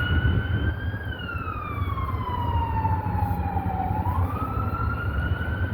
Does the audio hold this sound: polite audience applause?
no